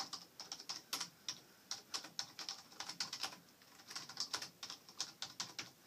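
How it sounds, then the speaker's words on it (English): Quiet keys on a Logitech MK250 wireless keyboard are typed in a steady, fast run of soft, close clicks and taps with no talking. "I'll go ahead and demonstrate the quiet keys."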